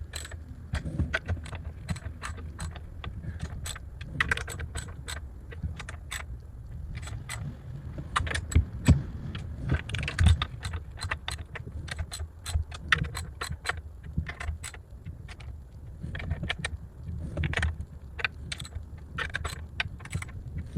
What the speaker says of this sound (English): Take the ratchet again,